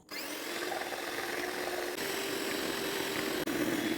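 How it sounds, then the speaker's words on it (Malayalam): Three eggs beaten in a bowl with an electric beater for plum cake batter, a steady close motor whine running continuously with one brief dip near the end, no talking. "ഈ ബൗളിലേക്ക് ഒരു മൂന്ന് മുട്ട ചേർത്ത് കൊടുക്കാം ഇനി ഇത് നന്നായി ഒന്ന് ബീറ്റ് ചെയ്യാം"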